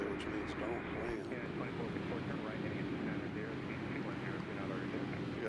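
A steady, loud airplane rumble at Nashville International Airport, broad and unbroken, with wind buffeting the microphone and a voice talking over it.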